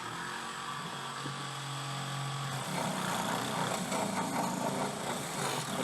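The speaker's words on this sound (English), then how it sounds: "we're going to go ahead and give this sanding disc a try" A Ryobi P460KN rotary tool runs with a sanding disc against wood, first as a steady motor whine and then as a louder, rougher grinding once the disc bites, continuous and close with no talk.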